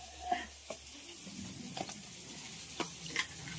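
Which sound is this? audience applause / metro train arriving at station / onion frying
onion frying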